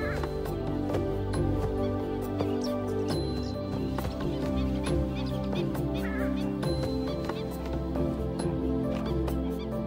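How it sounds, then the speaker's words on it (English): A purple swamp hen, or sultana bird, in the wild in Thailand, gives loud, harsh honking calls that repeat over a dense, steady background. "This is the purple swamp hen, also called the sultana bird, famed for its very loud, explosive call."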